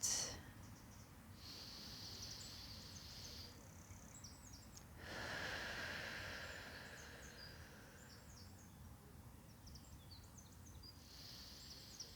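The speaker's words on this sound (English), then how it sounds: "I'm going to take 3 deep breaths in and 3 deep breaths out." Slow, deep breaths drawn in and let out during a guided spiritual visualization, forming a few long, soft, airy swells of breath with no talking over them.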